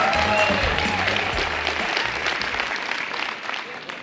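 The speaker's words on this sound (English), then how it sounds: "We got our own little cheering club here." Audience applause with some cheering greets a Delta Air Lines CEO walking on stage at a business travel conference, a steady, loud wash of clapping throughout with brief whoops early on.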